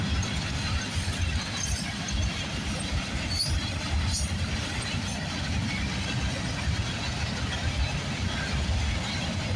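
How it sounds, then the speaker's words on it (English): A CSX freight train rolls past on the rail line, a continuous loud rumble of wheels and cars with faint squeals and clatter, steady throughout without pauses. "There's the end for that CSX train."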